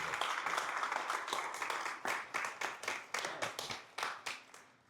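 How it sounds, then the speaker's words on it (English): A live audience gives a round of applause at an event, dense clapping for about two seconds that thins into scattered, distinct claps and a few final hand slaps as it dies away. "how about one more round of applause, please?"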